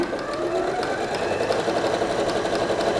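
A Bernette b38 domestic sewing machine runs steadily for the whole stretch, its fast even motor hum and needle chatter close and loud with no talk over it.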